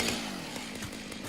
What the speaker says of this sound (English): Time to whip out the chainsaw.